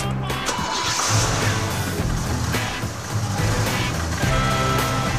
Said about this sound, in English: The car's working.